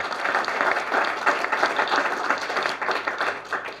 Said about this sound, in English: So can we all please give a massive round of applause to Stephen, Megan and Sally.